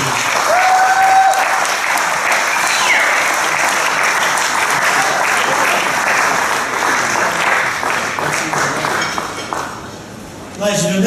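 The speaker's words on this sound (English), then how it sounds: "Please give a warm rousing clap to Chris Williams" Crowd applause at a cricket club hall of fame awards night, steady and loud with a few glassy clinks, thinning out near the end.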